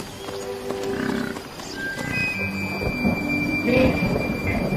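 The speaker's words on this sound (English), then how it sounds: "Storm clouds gather, and finally the weather turns." Thunderstorm with thunder: low rumbling rolls of thunder with a noisy, rain-like wash, plus scattered higher tones and whistles layered over the storm, steady and fairly loud throughout.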